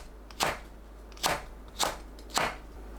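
A knife slices diagonally through green onions and Korean chili peppers on a cutting board, making four crisp separate cuts at a slow, even pace against a quiet background.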